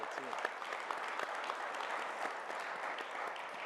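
An audience at a talk on XRP and Ripple applauds steadily, a faint, distant wash of clapping with scattered sharper claps and some murmured voices underneath.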